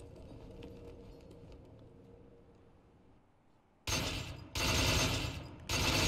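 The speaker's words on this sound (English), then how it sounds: "I love the gunshots in the end." Gunshots in the video game Devil May Cry 4 erupt as loud rapid bursts of firing after a quieter stretch of low game ambience, coming in two or three close volleys near the end.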